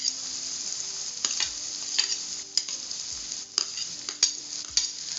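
Finely chopped onion sizzles in hot oil in a pan, a steady frying hiss with several sharp clinks and scrapes of a spoon stirring through it, close and alone with no talk.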